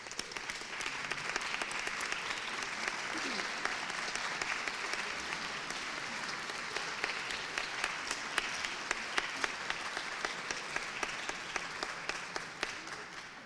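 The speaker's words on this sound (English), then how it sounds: "so we can applaud you for your support." Sustained audience applause fills a university awards ceremony hall as parents and friends stand, a steady dense clapping crowd lasting throughout with no talk over it.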